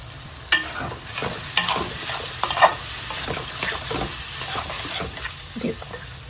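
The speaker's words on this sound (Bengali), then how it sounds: "কিছুক্ষণ এইভাবে কষাতে থাকবো।" Turmeric, chilli, cumin and coriander powders fry in a pan for a small-fish curry, a steady sizzle broken by repeated scraping strokes of a spoon stirring the spices.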